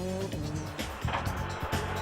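A Ford Focus World Rally Championship car's engine roars loud and close, with a tonal, revving drone that dips and surges and a hint of tire noise.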